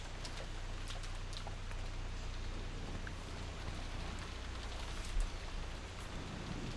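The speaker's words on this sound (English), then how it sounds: "Maybe the rain had died down a tiny bit since the previous night." Steady rain falling in a stormy night scene from the Umineko visual novel, a continuous dense wash of drops with a low rumble underneath, holding at an even level with a small swell near the end.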